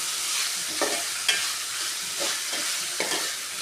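Chopped tomatoes frying and being stirred in a pan for prawn roast, a steady sizzle broken by several scraping strokes of the spoon, close and alone.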